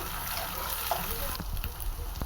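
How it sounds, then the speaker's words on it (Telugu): Ginger frying in oil with turmeric in a home kitchen pan, a soft steady sizzle with light stirring scrapes and brief clicks, heard close up. "ఆయిల్లో మంచిగా మనం అల్లాన్ని ఫ్రై చేసుకోవాలి"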